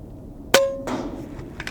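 An airgun pellet strikes a small steel plate target with one sharp, ringing metallic clang that fades quickly, followed by faint rustling.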